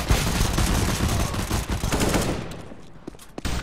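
Rapid gunfire bursts from a firearm in Counter-Strike: Global Offensive, loud and dense at first, then thinning into a few scattered shots as the volley fades toward the end.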